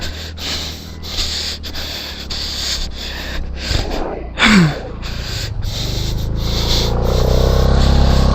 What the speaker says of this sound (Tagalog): Hingal na hingal.